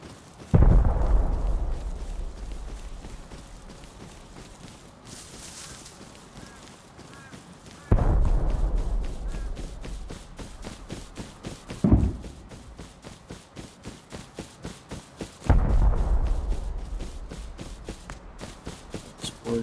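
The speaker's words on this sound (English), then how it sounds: "Explosions going on." Explosions in the video game Rust, heard as three heavy booming blasts spaced several seconds apart, each decaying into rumbling debris, with a smaller pop between them over a low background.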